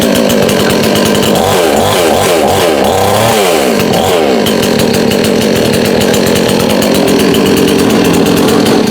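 A Gaochang petrol chainsaw is yanked by its pull cord several times in quick succession, each rasping pull loud and close, before the small two-stroke engine catches and runs with a steady buzzing drone.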